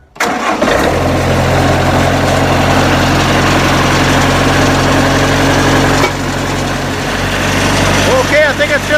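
A Wood-Mizer sawmill engine with a preheater cranks and catches after an oil change, then settles into a loud, steady idle that holds for several seconds with a faint voice underneath.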